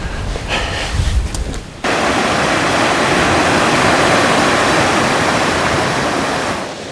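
A swollen spring river rushes loudly in a steady, broadband roar that begins abruptly after a short quieter stretch and continues unbroken, close by.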